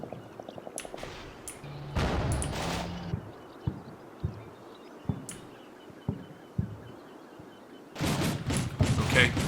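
Bradley fighting vehicles lay down suppressing gunfire on enemy positions in a combat video game: short bursts and sharp single shots ring out at irregular intervals, with a dense cluster of fire at the start and again at the end.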